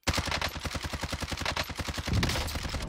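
Rapid gunfire from a FAL rifle in Call of Duty Warzone rattles off in a fast, steady string of close, punchy shots lasting nearly three seconds.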